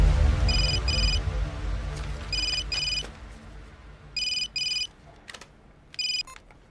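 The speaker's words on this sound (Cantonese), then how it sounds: "韓烈啊， 呢個係我私人電話嚟喎。" A telephone ringtone rings in short double-burst pairs with pauses between them, bright and clear above low background rumble, in a tense crime drama scene.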